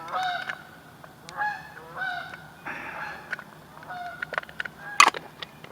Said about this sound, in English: I love the sound of them geese